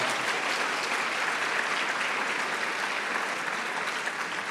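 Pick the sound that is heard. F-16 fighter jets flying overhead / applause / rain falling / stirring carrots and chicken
applause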